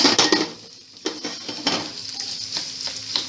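Finely chopped onion stirred into hot oil with cumin, crackling sizzle with repeated metal spoon scrapes and knocks against the pan, close and fairly loud.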